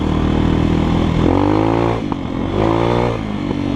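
A GEON X-Road 250 PRO motorcycle on a test ride over rough dirt ground, its engine loud and close, revving up in two surges with rattling clatter between.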